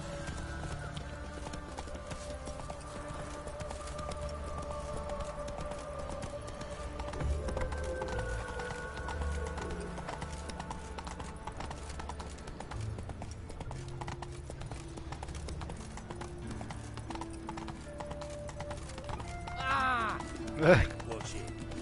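Roach the horse galloping in The Witcher video game, a steady rhythmic clip-clop of hooves running throughout at a constant pace, with a brief whinny-like burst near the end.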